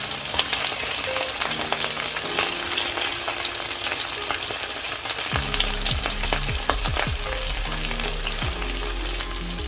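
Lamb pieces browning in a hot pan give a steady, close sizzle and crackle, broken by clinks and scrapes as the pieces are stirred and flipped, with no voices.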